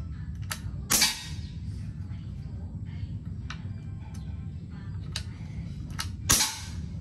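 Two sharp air rifle shots from an MSG PCP air rifle ring out at a distance, about five seconds apart, with a few fainter clicks between them over a steady low outdoor rumble.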